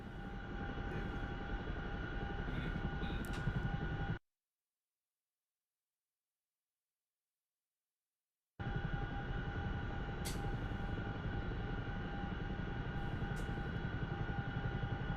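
Chinook helicopter in the flight simulator DCS World, a steady droning rotor and engine hum with a whining tone, cut by a few seconds of total silence before resuming, no talk.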